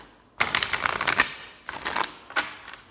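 Tarot cards being shuffled by hand in a quiet room, giving bursts of crisp riffling and flicking with brief pauses between them, close and fairly loud with no talking.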